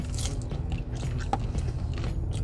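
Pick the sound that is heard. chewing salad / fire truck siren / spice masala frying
chewing salad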